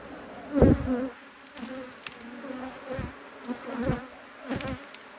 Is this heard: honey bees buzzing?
yes